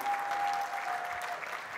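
Applause from an audience, a steady wash of clapping that fades slightly toward the end, with a faint tone running underneath.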